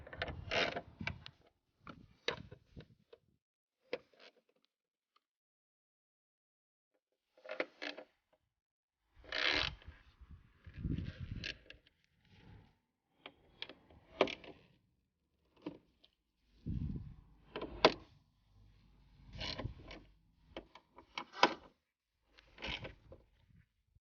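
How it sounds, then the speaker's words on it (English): Ratchet and tools working on a Hyundai i30N gearbox mount, giving intermittent close mechanical clicks and creaks in short bursts separated by pauses, with no talk. "I'm just going to crack them off with the ratchet and then just whiz them off with a gun"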